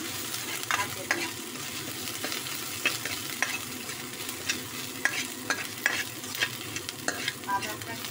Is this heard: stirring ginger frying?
yes